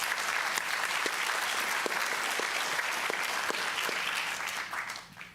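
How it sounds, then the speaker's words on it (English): A symposium audience on diversity and inclusion applauds steadily for the whole stretch, a dense, even wash of clapping that stays loud before thinning and fading at the end. "can you give a round of applause to Dr."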